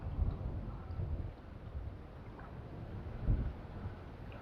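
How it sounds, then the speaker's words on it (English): Wind gusts across open water at a fishing match, a low broadband rumble and buffeting that swells and eases, with a stronger gust near the end and no talk. "now the wind's getting up"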